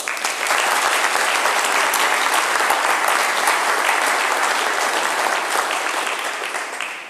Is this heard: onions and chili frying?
no